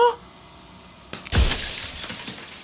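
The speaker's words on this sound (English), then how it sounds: "turning the mirror into jagged shards of broken glass" A mirror in the video game Slay the Princess shatters into jagged shards of glass: a sudden loud crash followed by a long, bright tinkling spray of breaking glass that trails off, with no voices.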